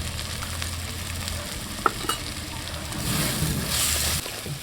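Onions sautéing in a frying pan for a fish curry, a steady close sizzle with stirring scrapes and a couple of sharp clinks, the frying growing louder and hissier toward the end.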